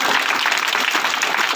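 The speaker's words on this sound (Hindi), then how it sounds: "चलिए इनके लिए एक बार जोरदार तालियां" An audience at a teachers' honour ceremony claps loudly and densely, a steady wash of many hands with no pause.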